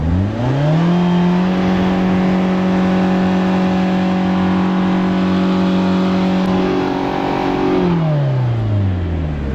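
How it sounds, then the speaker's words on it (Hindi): A Tata Vista diesel car engine with a misfiring fault is revved hard and held high for several seconds, then drops back toward idle near the end, loud and close with no talk. "मैं आपको दिखाता हूँ, तो एक बार यहाँ से एक्सलेट करता हूँ।"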